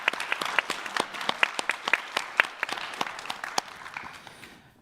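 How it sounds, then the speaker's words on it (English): An audience at a foreign policy institute event applauds after a presentation, with a moderate, fairly sparse run of claps in an indoor hall that thins out and fades toward the end. "please join me in applauding the work done and your presentation"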